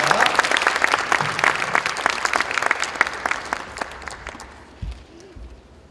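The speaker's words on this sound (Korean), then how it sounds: "한번 박수로 환영해 주시면 감사하겠습니다." Audience at a church prayer rally claps steadily to welcome a missionary speaker, a dense, fairly close round of applause that thins out toward the end, with a brief voice near the finish.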